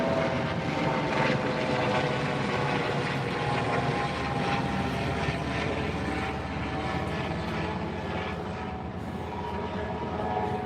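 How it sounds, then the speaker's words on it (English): A helicopter flies overhead near a railroad crossing, its steady rotor and engine roar filling the whole stretch, loud and continuous, fading slightly toward the end. "There's a helicopter."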